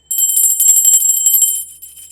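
A notification bell sound effect rings out bright and clear in a quick run of repeated chimes, loud and isolated, before fading at the end.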